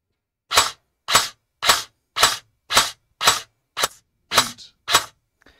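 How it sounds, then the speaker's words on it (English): Airsoft gun with a budget brushless motor swap firing ten evenly spaced semi-auto shots, each a sharp loud crack about half a second apart, close to the listener with silence between. "I'm going to do 10 shots in semi to get a rough average of what the max amp will pull"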